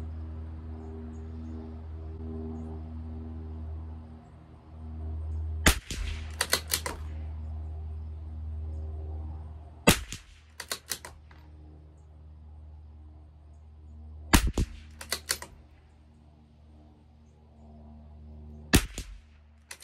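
A CZ 457 LRP rifle with an IBI barrel fires RWS Special Match rounds at 50 yards, five sharp cracks spaced several seconds apart, each followed by quieter clicks of the bolt cycling, over a low steady hum.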